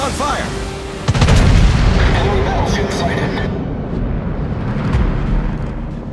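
Heavy naval gunfire from a battleship in World of Warships, likely the tier 7 Colorado: a loud booming salvo about a second in, rumbling on under a dense battle din with voice lines over it.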